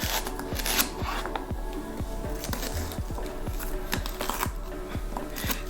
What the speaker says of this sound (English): 2 stalks of celery. And I'm gonna cut it right below the little joint there.